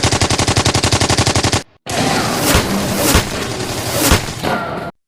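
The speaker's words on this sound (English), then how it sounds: "He raises his MP40 and fires." An MP40 submachine gun fires a rapid, even burst of about fifteen rounds, then cuts to booming gunfire and explosions in a loud, dense WWII battle scene.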